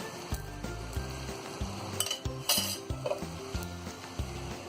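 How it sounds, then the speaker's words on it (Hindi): A small bowl holding burning charcoal is set down into dum keema for smoking, with clinks and knocks of bowls against a pot over a low rhythmic stirring clatter and a brief sizzle, close and moderately loud, no talking. "यहाँ पर हम बीच में रखेंगे 1 कटोरी, यहाँ रखेंगे 1 कटोरी और रख देंगे ये जलता हुआ चारकोल"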